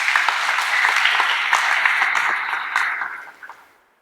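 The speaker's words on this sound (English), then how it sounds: "please give yourself a round of applause for making it today" An audience at a seminar breaks into dense, loud applause that holds steady for a few seconds, then thins into scattered claps and fades out.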